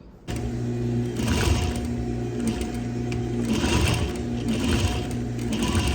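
A sewing machine whirs steadily up close, its motor humming with rapid needle clatter, running continuously after a brief quiet start.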